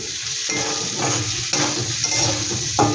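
Beans, capsicum and green chilies fry in a pan for egg Maggi, producing a loud, continuous close-up sizzle with occasional stirring scrapes and no voices.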